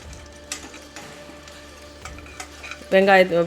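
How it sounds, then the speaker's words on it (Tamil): Cumin seeds splutter in hot oil inside a pressure cooker, giving quiet scattered crackles and pops that swell into a louder burst of sizzling near the end. "ஜீரகத்தை சேர்த்துக்கலாம். இது நல்லா பொரிஞ்சு வந்தோடனே"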